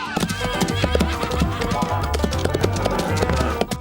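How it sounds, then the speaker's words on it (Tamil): Hooves of a Clydesdale horse clip-clop in a quick, steady rhythm of repeated taps, fairly close and loud, over a continuous busy background. "இது ஒரு கிளைஸ்டே குதிரை மற்றும் ஒரு மாடு"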